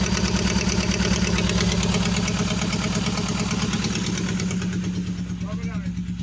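A 1988 Nissan Sentra with the E16i engine idles steadily and loudly up close, a constant throbbing rumble that eases slightly toward the end, with a voice speaking over it.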